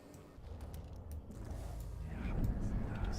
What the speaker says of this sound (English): Sound like a secret door or something.